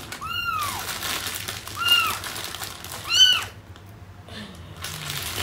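A pet cat meows indoors, three short rising-and-falling meows spaced about a second apart, fairly close, over a low steady hum.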